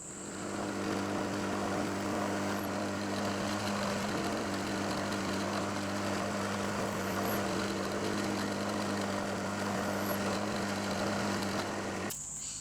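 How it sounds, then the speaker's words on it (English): Knee milling machine drilling holes in metal while building a thread milling attachment, a steady loud mechanical drone with constant hum running throughout, ending abruptly near the end. "Okay, I'll set up and drill these holes."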